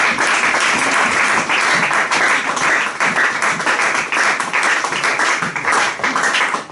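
A church congregation at Sunday worship breaks into loud, sustained applause, a dense, steady roar of many hands clapping close by without pause.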